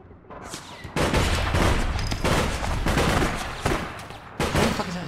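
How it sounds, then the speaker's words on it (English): Gunfire in the online game APB Reloaded, heavy sustained bursts of automatic shooting with several sharp onsets, loud and close, and no one talking. "What the fuck is that shooting?"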